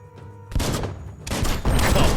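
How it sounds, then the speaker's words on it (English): Two loud bursts of rapid gunfire and blasts in the video game Biomutant, each erupting suddenly after a quieter stretch and lingering as a dense crackling roar. "Shoot it and watch it blow."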